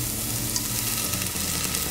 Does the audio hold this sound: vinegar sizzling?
yes